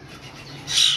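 A single harsh, loud Indian ringneck parrot squawk bursts out near the end after a quiet, hissy lull.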